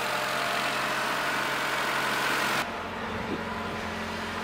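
A Honda car engine awaiting head gasket work idles while warming up, sounding a little dry: a steady, close mechanical drone that drops in brightness partway through and keeps running unattended.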